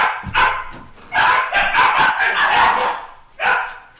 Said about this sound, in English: It's a puppy war.